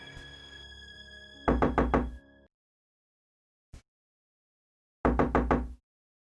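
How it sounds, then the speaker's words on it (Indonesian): Sharp knocks on a house door come in two quick bursts of about four raps each, loud and close, separated by silence and one lone thud. "aku mendengar seseorang mengetuk pintu rumahku"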